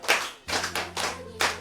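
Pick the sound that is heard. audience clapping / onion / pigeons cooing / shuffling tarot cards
audience clapping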